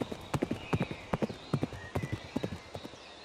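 Horses' hooves clip-clop in a quick, steady rhythm of sharp, close knocks, several animals moving together on hard ground with no voices.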